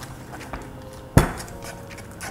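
A paper mache and porcelain clay mixture stirred in a cooking pot, with soft scraping and one sharp metallic clank of the utensil against the pot midway.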